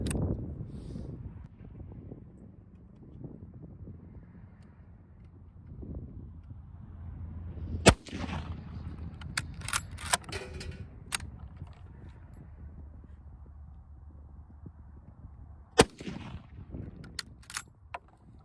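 Gunshots fired during target shooting outdoors, a couple of sharp loud cracks spaced several seconds apart with faint shorter reports between, over steady wind and low rumble.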